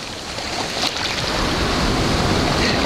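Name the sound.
ocean waves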